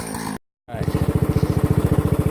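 A Powerhorse wood chipper engine runs close by, a fast, regular chugging pulse that resumes after a brief cut and pounds on steadily while branches are fed in.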